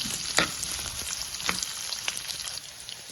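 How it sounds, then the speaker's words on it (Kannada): Sliced onion, cut lengthwise, sizzles quietly in hot oil for capsicum bhurji, a soft steady crackle broken by a few sharp stirring taps, with no one speaking. "ಎಣ್ಣೆಯಲ್ಲೇ ಸ್ವಲ್ಪ ಹೊತ್ತು ಬೇಯಿಸ್ಕೊಳ್ಬೇಕು ಈರುಳ್ಳಿಯನ್ನು"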